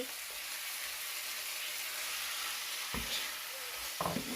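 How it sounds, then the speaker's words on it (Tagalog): Squid cooks with tomatoes in a pan for adobo, a soft, even frying hiss with a couple of sharp stirring clacks near the end. "So it's time for me now to add the squid po."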